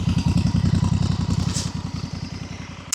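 A 2024 Honda Africa Twin motorcycle with an aftermarket Termignoni exhaust, unbaffled, idles close by with a deep, rhythmic, lumpy exhaust burble that settles slightly toward the end.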